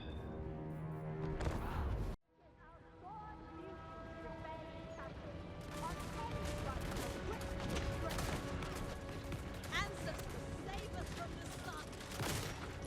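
Crane guns of Cathay in Total War: Warhammer 3 battle against Skaven, a dense rolling fusillade of distant gunfire under battle noise, with talk throughout.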